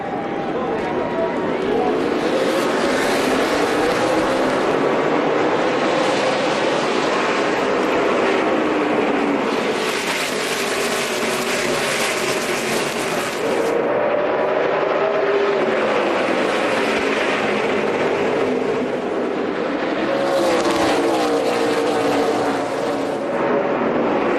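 NASCAR Nationwide Series race cars roar off the start at Bristol, a dense, loud, sustained engine wail with pitch rising and falling as the pack accelerates, while a commentator talks over it.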